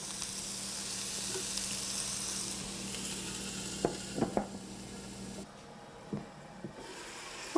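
Swiss chard stems sizzling and simmering in a covered pan, a steady soft hiss with a few clinks and knocks of the lid and pan, the sizzle dropping quieter near the end.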